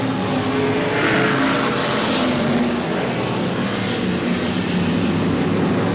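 Race cars lapping at Seekonk Speedway weekly racing in 1994, a dense continuous engine roar from several cars, one rising and passing louder then fading into the pack, steady and fairly distant.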